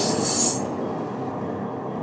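A train near Zermatt, Switzerland rushes past at very close range, a loud steady roar of wheels on rails with a brief high squeal at the start, then a sustained rumble.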